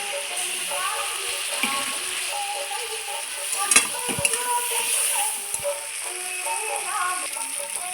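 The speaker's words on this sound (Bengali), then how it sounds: "ভাজতে ভাজতেই সেদ্ধ হয়ে যাচ্ছে ডাঁটাগুলো" Red amaranth stems (lal data) sizzle and fry in oil with ground spice paste, steady crackling hiss under rattling stirring and scraping in the pan, with a few sharper knocks.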